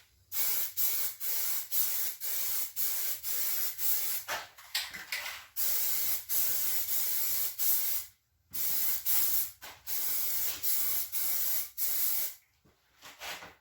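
Aerosol can spraying Plasti Dip rubber coating, a loud steady hiss in long bursts broken by short pauses as the nozzle is released, close to the microphone with no talking.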